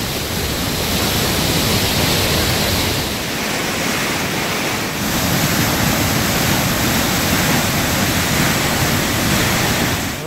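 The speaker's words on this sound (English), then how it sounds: "the small amount of water that runs through these waterfalls" Water pouring through Little Qualicum Falls, a loud, full, continuous rush heard up close with only slight swells in level and no voices.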